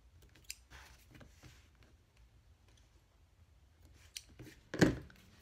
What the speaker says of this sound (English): I just am going to trim my threads here.